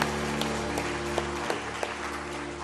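Applause from a congregation during a Korean Sunday morning church service, a steady wash of clapping with a few sharper claps standing out, fairly loud and continuous.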